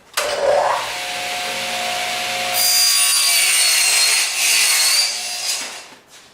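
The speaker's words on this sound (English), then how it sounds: "Next, I'm going to cut my end panels to length." A power saw cuts wooden end panels to length for a basic case in a woodworking shop, a loud whining motor rising as the blade bites, a sustained rough cutting roar, then spinning down.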